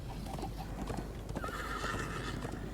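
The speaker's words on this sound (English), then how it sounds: "I'm on a horse here." A horse in the Minecraft Story Mode video game neighs while its hooves clip-clop, the whinny rising clearly over a busy game soundscape.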